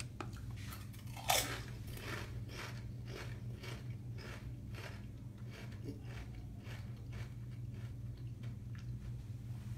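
Lay's Thai sweet chili potato chips being eaten, with one sharp loud crunch near the start followed by a steady run of softer rhythmic chewing crunches over a constant low background hum.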